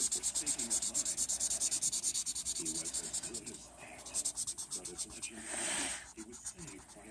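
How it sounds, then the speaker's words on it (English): Colored pencil strokes scratching across paper while shading a wolf coloring page, a close, steady series of rapid rubbing strokes with brief pauses and a longer smooth stroke near the end. "I'm going to use like one of my color pencils again and do it that way."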